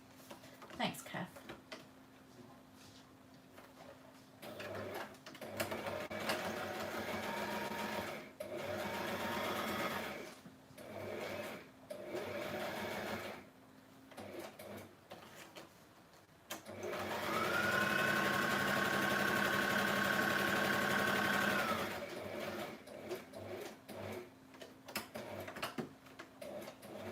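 A sewing machine stitching fabric runs in short intermittent bursts, then settles into a longer steady whirring run near the end, with a person talking quietly in between.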